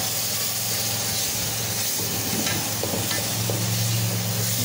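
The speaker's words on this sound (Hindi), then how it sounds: "अच्छे से मिक्स करेंगे।" Whole green chillies stirred into potato pulao in a pot of drying rice, a continuous loud sizzle and hiss with faint scraping from stirring.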